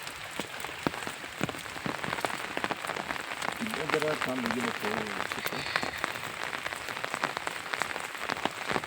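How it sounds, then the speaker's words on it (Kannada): Rain patters steadily across a garden, a dense wash of drops with a voice briefly heard over it. "ಮಳೆ ಬಂತು"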